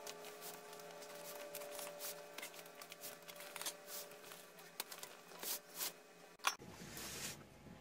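Packaging on an army cake being cut open up close, a faint, continuous crinkly scraping and rustling with small sharp snips and a louder crackle near the end.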